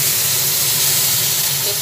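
Eggplant pieces frying in a hot pan, a steady, bright sizzling hiss that stays loud and unbroken throughout the short moment.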